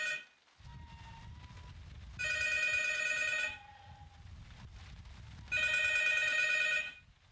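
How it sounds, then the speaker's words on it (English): Telephone bell ringing in the horror video game P.T., two loud bursts of about a second and a half each separated by a low droning pause, with no speech. "The phone's supposed to ring."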